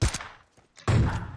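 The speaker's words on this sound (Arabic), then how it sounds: "في واحد عم يضربنا بس ما أدري من وين" Gunfire in the battle-royale video game PUBG comes as two sharp, loud bursts split by a brief near-silent gap, with no voices over them.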